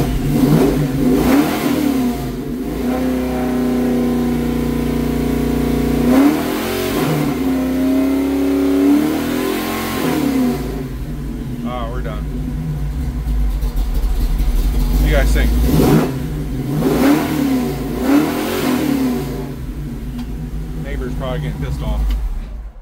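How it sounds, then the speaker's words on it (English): A truck engine on its first start after two months, revving up several times and dropping back to idle, loud and close, with a person talking intermittently over it. "it's revving up and right down."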